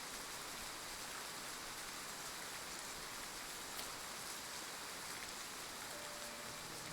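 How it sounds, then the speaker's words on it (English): Steady, even rain pours down continuously in the video game Triangle Strategy, a dense wash of falling drops with no voices. "Rain! Honest to goodness, rain!"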